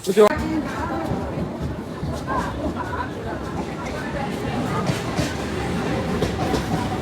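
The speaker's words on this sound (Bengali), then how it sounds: "তো গাইস, ট্রেন চলে এসছে, এখন বাড়ি থেকে যাবো।" A train pulls into Kalna station, a low rumbling, rattling rolling noise under the hum of a crowded platform with people chattering nearby.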